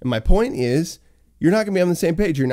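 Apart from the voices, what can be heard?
No distinct noise like a dog, phone or traffic.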